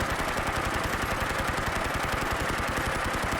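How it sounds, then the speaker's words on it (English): Rapid sustained automatic fire from a PP-19 Bizon submachine gun in modded Fallout 4, a full 64-round magazine dumped in one continuous loud burst of evenly spaced shots with no pauses. "I just dumped the whole 64 round magazine"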